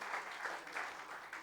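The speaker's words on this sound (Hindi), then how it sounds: "हम सब जोरदार ताली बजा करके सर का स्वागत सम्मान करेंगे विश्वविद्यालय के।" An audience at a one-day national seminar on entrepreneurship applauds to welcome a university guest, a brief, dense burst of clapping that sounds somewhat distant and faint.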